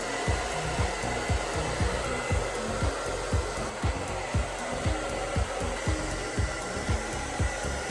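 Hair dryer blowing steadily on a men's wolf cut mullet as it is styled for volume at the back, loud and continuous with rhythmic thumping pulses from handling close to the microphone.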